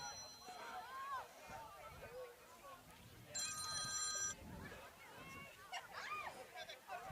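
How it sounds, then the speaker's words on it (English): A phone rings during a live broadcast of a sports championship, a bright repeating electronic ringtone sounding for about a second amid ongoing talk and background commentary. "Don't you hate it when the announcer's phone rings live on broadcast?"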